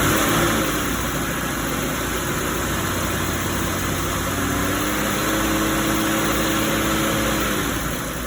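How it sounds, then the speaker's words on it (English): The engine of a 2007 Buick Lucerne runs steadily close up, a continuous mid-pitched hum with a slight rise in speed partway through, with no talk over it. "and we're going to raise the RPM"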